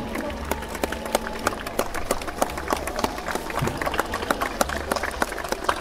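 Scattered, fairly dense hand clapping from an outdoor crowd at a ceremony for the return of the Hermione frigate to the Rochefort arsenal, with sharp irregular claps running steadily throughout over a low background hum.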